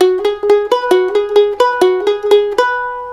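A mandolin plays a quick bluegrass lick from a tune, about a dozen bright picked notes in an even rhythm, close and clear, the last note ringing out.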